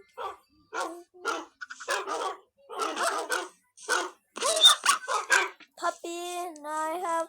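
A black dog's barking, heard as a run of short voiced barks and yips, mixed with a person's voice imitating woofs and speaking, followed by a longer, steady harmonic call near the end.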